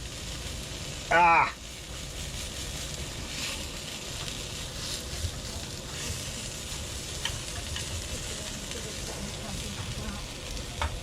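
Sausages frying on a camping stove give a steady close sizzle and crackle throughout, with a brief loud exclamation from a man early on.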